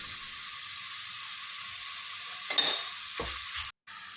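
Crushed ginger and garlic hitting hot oil in a pan, a continuous soft hiss with a brief louder burst partway through and a quick cut near the end, close and fairly quiet.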